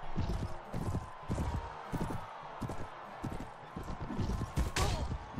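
A horse's hooves clip-clop in the Mount & Blade video game, a brisk, uneven run of close hoofbeats over a low ambient background.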